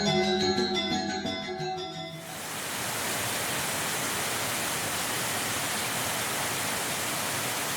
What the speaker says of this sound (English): Gria Beji Waterfall is situated Taman Punggol Village, Badung, Bali